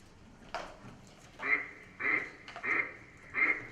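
Ducks quack in four short, nasal bursts spaced about half a second apart, fairly close and clear, with a faint extra blip before them and no talking.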